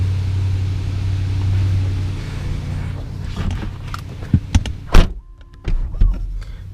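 Someone climbs into a 2014 BMW 650i Gran Coupé, with a low engine hum fading out, then handling and shuffling noises, a firm door thunk and a short electric whir close by.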